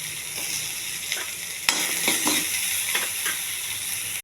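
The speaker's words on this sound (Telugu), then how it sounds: "అల్లం అండి, ఉల్లిపాయ, ఇవన్నీ కొంచెం త్వరగా వేగించాలి" Ginger, onion, curry leaves and diced potatoes frying in a pan give a steady close sizzle, broken by scraping stirs and a few sharp clinks of the spatula.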